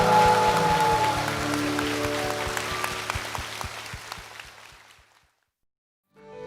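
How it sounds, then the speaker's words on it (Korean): A congregation at Yeouido Baptist Church claps in a steady rhythm over sustained musical tones, then the sound fades to silence before something briefly returns. "주님께 영광의 박수 올려드리겠습니다."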